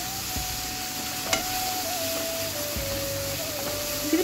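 Pav bhaji masala roasting in a hot pan, a steady even sizzle with a faint whine and a few soft scrapes, heard alone.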